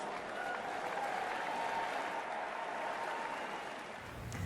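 A crowd of Democrats in Philadelphia applauds Dan Malloy's speech with a dense, steady wash of clapping that holds for several seconds at a fairly even level, then eases slightly near the end.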